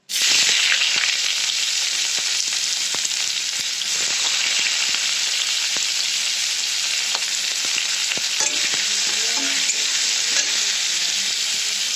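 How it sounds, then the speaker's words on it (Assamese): Chopped onions sizzle steadily in hot oil in a pan, with frequent scraping and clinking as they are stirred, close and loud throughout with no talking. "এতিয়া দিম মই পিঁয়াজখিনি।"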